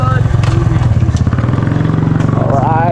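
A motorcycle engine runs just after refuelling, a close, loud, rapid pulsing throb that holds steady. Someone talks over it.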